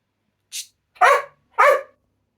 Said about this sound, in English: the dog might bark again in a second